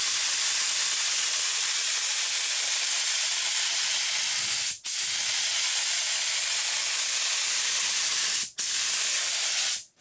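A cheap $10 HVLP spray gun spraying latex paint thinned with Floetrol, a loud continuous close hiss broken by two brief pauses and cutting off at the end.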